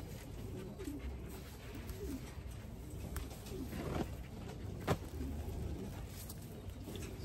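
Several racing pigeons coo in low, soft, throaty rumbles, faint and close by, repeating irregularly over steady background noise with an occasional sharp tap.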